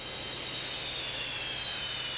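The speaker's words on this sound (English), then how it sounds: "nel Nikolai Koval of the Ukrainian Air Force is winding up the two huge Lyulka turbofans on his Su-27" Ukrainian Air Force Su-27 at an air show at Fairford, winding up its two big Lyulka turbofans, a loud steady jet whine and roar with a high-pitched turbine tone, close and continuous.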